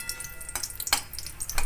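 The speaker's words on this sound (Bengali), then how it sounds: "এর মধ্যে আমি ফোড়নে একটা শুকনো লঙ্কা ভেঙে দিলাম, একটু তেজপাতা দিলাম, আর একটু এটা ভাজা হয়ে যায়।" Dry chilli and bay leaf fry in ghee as a tempering, giving a short burst of crackling sizzle with a few sharper spits and pops. The sound is close, moderately loud and free of speech.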